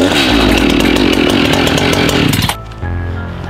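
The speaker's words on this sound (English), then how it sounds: "we got the chainsaw" A chainsaw runs at full, steady throttle close up, loud and continuous, then abruptly drops to a lower idle near the end.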